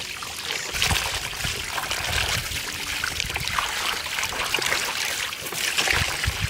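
Water splashes and trickles steadily, close by, as catla fish is rinsed under a pouring stream, with brief handling noises and no clear talk.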